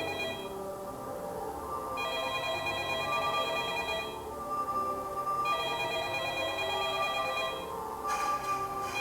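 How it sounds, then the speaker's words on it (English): A telephone rings inside the Backrooms Damage Control video game, sounding repeated electronic bursts with short pauses between them, steady and moderately loud, with no talk over it. "Just a phone."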